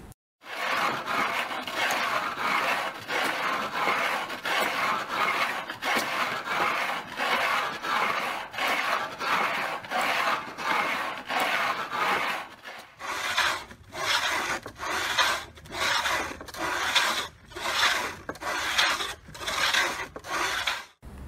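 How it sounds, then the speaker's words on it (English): A pendulum saw cuts stone with steady back-and-forth rasping strokes, a rhythmic scraping grind repeating roughly every second, close and continuous, shifting to a harsher, brighter tone partway through. "That clip was an example of a pendulum saw"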